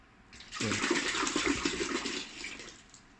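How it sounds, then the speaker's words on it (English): Liquid pours steadily from a BTMS-17K digital filling and weighing machine running at raised pump speed, a close, continuous rushing gush that starts abruptly and holds for a few seconds before easing slightly. "So the faster the speed, the higher the liquid flow."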